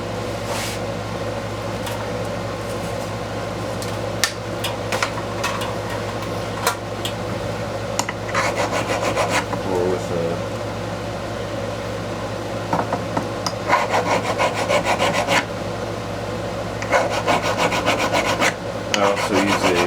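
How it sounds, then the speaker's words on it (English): A silver ring is polished against an abrasive wheel, giving a continuous rasping, rubbing whir with repeated short scraping bursts as the piece is pressed and lifted, close and fairly loud. "pretty much polish off with either a abrasive wheel."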